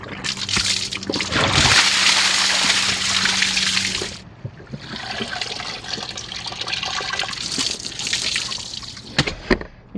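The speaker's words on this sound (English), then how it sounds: "Let me hose it off and see how it comes out." Garden hose spraying water over a dirty pool filter cartridge, a loud rushing, splashing hiss that eases into softer sloshing and trickling, close by with no talking.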